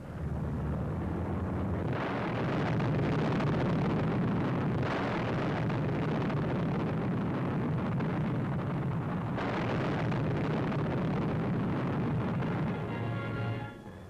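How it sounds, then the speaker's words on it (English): A 10-ton Mammoth bomb bursts on a railway bridge in a 1945 newsreel, a sustained roaring rumble with heavy low-end, rough and continuous for the full stretch, as on an old wartime film soundtrack. "the new 10-ton Mammoth ripped the bridge in one tremendous explosion"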